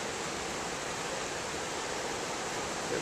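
A creek swollen by Susquehanna River flooding rushes past as a dense, steady roar of water, loud and unbroken, with no voices over it.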